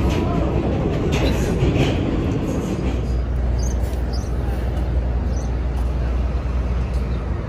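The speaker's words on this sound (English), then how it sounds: "First subway ride of the trip." A New York subway train rides on the rails with a steady, loud rumble and rattle throughout, a low drone underneath and faint squeaks high up, with no clear talk.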